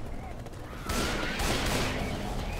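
Weapons firing in Left 4 Dead 2 on The Parish campaign, a continuous rattling fusillade of rapid gunshots that swells suddenly and holds loud and steady to the end.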